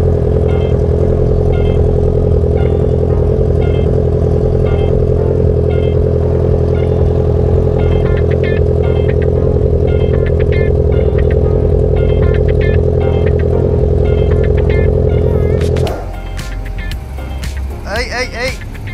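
A custom-built Honda CB650R motorcycle engine idling close by with a steady, loud, throbbing hum for about sixteen seconds before it cuts off, leaving clattering handling sounds.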